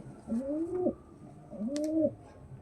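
A giribaz pigeon coos twice, soft and close, each call a short rising-falling warble separated by a brief pause.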